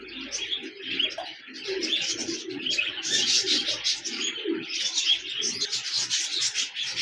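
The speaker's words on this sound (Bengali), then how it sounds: "এখানে দেখতে পাচ্ছেন একজোড়া বাজরিগার পাখি রয়েছে" A breeding pair of budgerigars at a bird farm chatters and chirps nonstop, a dense, busy warble that holds steady and fairly close for the whole stretch, with no voices.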